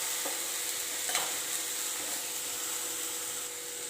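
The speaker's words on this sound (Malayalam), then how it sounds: "ഇത് ഇനി എണ്ണയിലിട്ട് നന്നായിട്ടൊന്ന് ഇളക്കിയെടുക്കാം" Chopped banana flower stir-fries in hot oil for a thoran, a steady sizzle broken by a few scraping stirs of a spoon, close and alone without speech.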